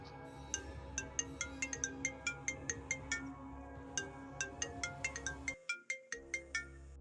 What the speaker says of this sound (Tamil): அவளுடைய மொபைல் வந்து ரிங் ஆகுது